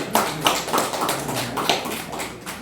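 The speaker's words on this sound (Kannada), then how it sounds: "ಜೋರದ ಚಪ್ಪಾಳೆಯೊಂದಿಗೆ ಅವರಿಗೆ ಸ್ವಾಗತ ಮಾಡಿ" At a state and international award ceremony, an audience claps to welcome an award presenter. The claps come in firm, evenly spaced bursts with a rhythmic, close-sounding beat.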